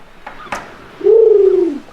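A man imitates a dove or pigeon cooing with his voice, a short breathy lead-in followed by one loud, sustained, throaty coo up close.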